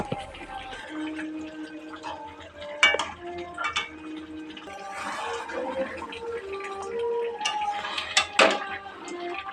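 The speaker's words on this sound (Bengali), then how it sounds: "এবার চিকেন আর আলু একসাথে কষা হচ্ছে।" Chicken and potatoes sautéing together in a pan, with metal spatula scrapes, clinks against the pan and soft sizzling, irregular and close by, with a few sharper knocks.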